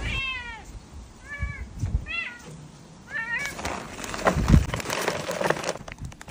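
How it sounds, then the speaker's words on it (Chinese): A stray tabby cat meows several times in short, rising calls near the microphone, followed by crinkling and rustling sounds. "竟然又来了一只花猫，看来也是发现我这边的猫粮了"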